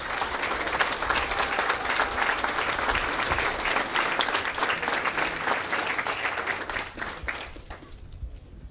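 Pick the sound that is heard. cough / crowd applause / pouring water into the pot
crowd applause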